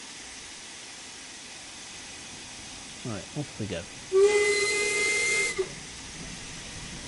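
Steam locomotive in Train Sim World 5 on the Peak Forest Railway: a few chuffing puffs, then a loud sustained steam whistle blast over a hissing background, with someone speaking briefly before it.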